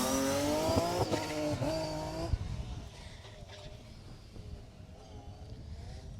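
A rally car on a Jersey Rally stage roars past close by, its engine note rising and then dropping sharply as it goes, before fading into distant engine noise and wind.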